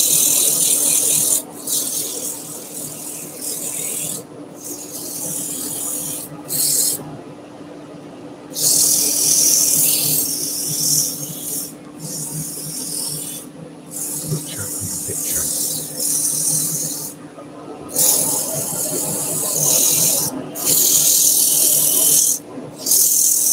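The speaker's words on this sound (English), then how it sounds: "Now I'm going to sand up to the join, but I'm not going to go too far over" Abrasive paper rasps against a wooden potpourri pot spinning on a lathe, a steady hissing scrape over the motor hum that cuts out in brief gaps as the sanding pauses.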